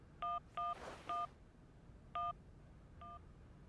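Touch-tone keypad beeps from a phone being dialed in the Syberia video game: four short, clean dual-tone presses in an uneven rhythm, close and clear over a faint hiss, with a soft rustle between the second and third tones.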